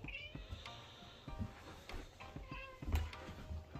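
A house cat meows several times in a row, drawn-out plaintive calls at close range over faint room noise, with no talking.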